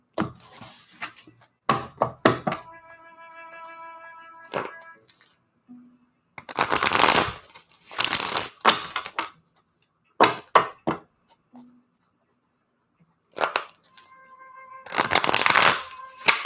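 Tarot cards being shuffled in several quick riffling bursts, close and crisp, separated by short pauses and a few soft taps.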